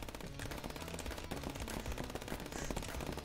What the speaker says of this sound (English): What, you have a minigun?